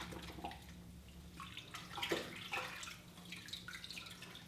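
Marigold-dyed wool is rinsed under running water, a faint, close splashing and trickling with soft irregular sloshes, heard alone without talk.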